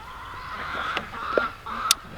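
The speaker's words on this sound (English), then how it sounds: "Greg, our guard goose there" A goose kept as a guard bird on a farm honks a few short, nasal calls at moderate distance, sounding in a quick cluster near the end, with no talking.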